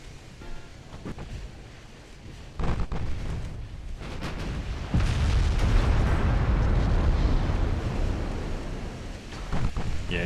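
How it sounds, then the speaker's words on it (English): Heavy 12-inch naval shells explode in the Ultimate Admiral: Dreadnoughts warship game, a dense, continuous rumble of blasts and deep booms that swells louder midway and keeps rolling without pause. "he just landed a bunch of 12-inch shells on me"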